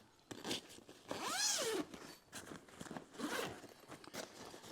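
Zipper being pulled open on a new portable green screen kit's carrying case, two quick close rasping pulls separated by a short pause, fairly quiet with no talk.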